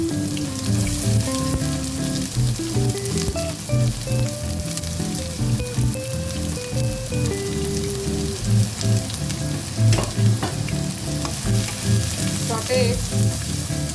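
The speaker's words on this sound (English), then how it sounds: "In this, I am going to add the onion," Onion sautéing in a hot pan after mustard seeds have spluttered, with a loud, dense, continuous sizzle and crackle close up, steady throughout, and a low tonal hum underneath.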